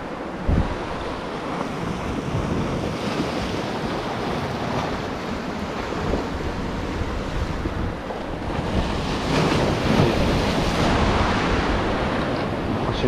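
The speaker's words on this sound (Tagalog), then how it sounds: "Ang malakas yung sampa ng alon dito." Steady roar of waves crashing and surging close by, with heavy wind buffeting the microphone, and no voices.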